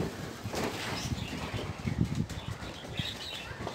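Pigeons being chased with a floor squeegee beat their wings in a close, busy flurry of soft flapping bursts that run on for several seconds, with light rustling and no speech.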